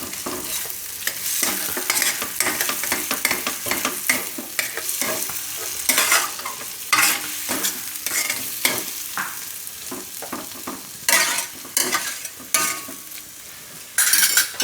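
Cauliflower is stirred in a pan with coriander-cumin powder and red chili, bursts of scraping and tossing over a steady sizzle, loud and close, with short pauses between strokes.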